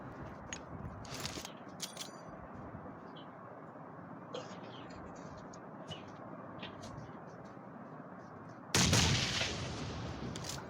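A thrown grenade bursts in PUBG Mobile, a battle royale shooter. One sharp, loud blast near the end rises over faint, quiet ambience dotted with distant clicks and pops.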